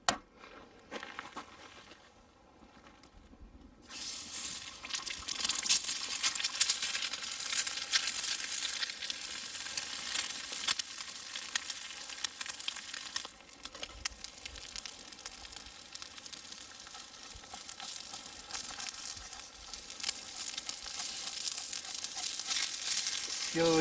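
Steak and eggs fry in a too-hot skillet over a FireBox grill outdoors, giving a loud, steady sizzle that rises after a quiet start and crackles on unbroken for the rest of the stretch.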